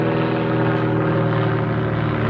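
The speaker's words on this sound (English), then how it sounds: "You hear the plane up there in the sky." Propeller airplane droning steadily overhead in the sky during an outdoor hunting session, a continuous engine hum with strong low tonal bands holding at even loudness throughout, no talk.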